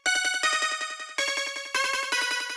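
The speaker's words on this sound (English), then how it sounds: "And then I have this simple square pluck." A bright, buzzy square-wave synth pluck plays a quick repeating pattern of short staccato notes for hyperpop, shifting pitch every few beats, loud and alone.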